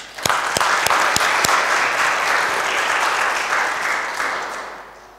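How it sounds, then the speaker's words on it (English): Church congregation at a vigil Mass gives loud, sustained applause for October birthdays, with a few sharp close claps at the start before the dense clapping slowly fades. "we can give all of them big applause"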